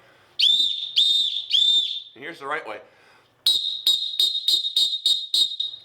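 Loud, sharp referee whistle blasts from a Valkeen whistle for soccer officiating: three swelling blasts, someone speaking briefly, then a rapid series of about eight short, crisp blasts.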